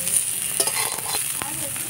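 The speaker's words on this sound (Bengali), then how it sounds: "লাল লাল করে ভাজা হয়ে গেছে" Cauliflower browning in oil in a pan, a close steady sizzle with a few light stirring scrapes and clicks over its short span, no talking.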